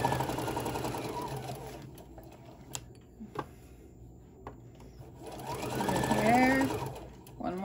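A sewing machine runs steadily while stitching a Santa bag for a craft fair, stops briefly with a few clicks and taps, then whirs up again for a short backstitch; someone talks over it.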